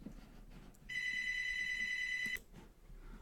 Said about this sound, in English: Sorry about that. That was the phone.